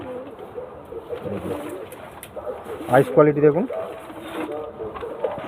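Pigeons coo in low rolling bursts close by, heard beneath someone talking throughout.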